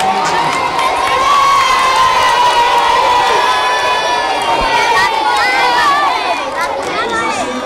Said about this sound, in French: Très bien, bravo à vous. Applaudissez-vous